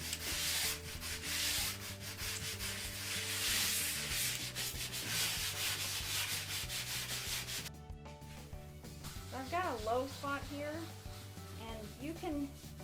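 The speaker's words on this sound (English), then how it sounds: "the smearing action with the block will really kind of rub off high spots" A hand block rubbing and smearing a coat of concrete on a countertop, a steady scraping rub that continues through the clip, with speech over the later part.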